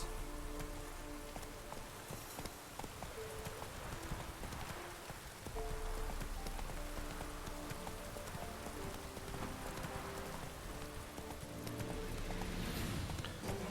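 Horse hooves trot in The Witcher 3, a steady run of clip-clop beats lasting the whole stretch over a dense, rain-like patter and hiss, moderately loud with no talking.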